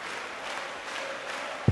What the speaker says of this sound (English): you can hear what the crowd think about this